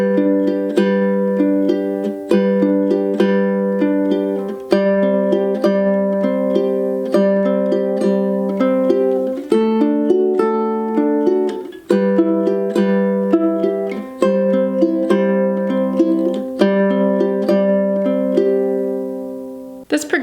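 Ukulele picking a steady fingerstyle pattern through the opening lines of the second verse of a song, instrumental only, with bright sustained notes and regular plucked attacks, close and alone for about twenty seconds.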